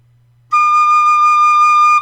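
Tin whistle held on one clear, steady high note with the top finger hole vented, starting cleanly after a brief pause and sustained alone for about a second and a half.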